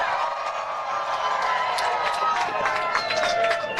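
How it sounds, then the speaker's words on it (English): A room full of people applauds and cheers with whoops and excited voices, a dense continuous wash of clapping and chatter, lively and fairly close throughout. "You can tell that there is applause, excitement, hugs, smiles."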